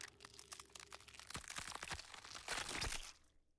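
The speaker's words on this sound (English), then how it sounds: "Did we really have to have a squishy crunchy noise?" A squishy, crunchy death noise from the video game Outer Wilds builds through a cluster of sharp cracks and wet crunches before cutting off, loud and close with no talking over it.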